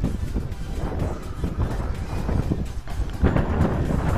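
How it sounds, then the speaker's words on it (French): Steady low rumbling buffet of wind hitting a camera microphone outdoors at a drone test flight, continuous and fairly loud, with gusts swelling toward the end. "Je suis vraiment désolé si vous entendez le vent dans la caméra."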